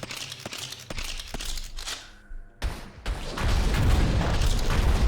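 Explosive weapon shots in the video game Ashes Remember Us, a run of sharp cracks followed by heavy booming bursts and rumbling, loud and close, with no talk.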